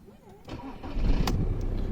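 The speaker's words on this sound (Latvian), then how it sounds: "Dzinējs iedarbojās" An Audi A6 C6 engine cranks briefly and catches, then settles into a steady low idle rumble; a faint voice is heard just before the start.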